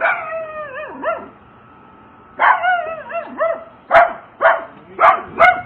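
A dog inside a house gives drawn-out, wavering howls, then a run of five sharp, loud barks, close by with no talking.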